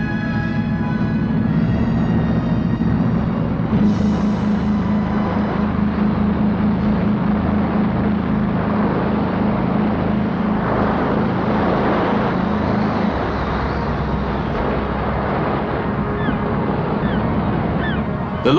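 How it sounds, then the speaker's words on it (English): A high-speed pilot launch from Folkestone runs at sea carrying Trinity House pilots, its engine droning steadily and loudly throughout with a low tonal hum, wind buffeting and water rushing past the hull. "a high-speed launch from Folkestone takes the Trinity House pilots out to meet Thames-bound"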